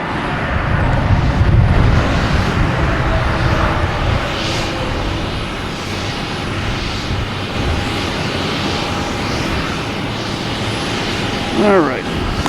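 At Boston Logan, a jet airliner's engines roar in a broad, steady rumble that swells and lingers as it taxis and takes off, with someone talking over it throughout.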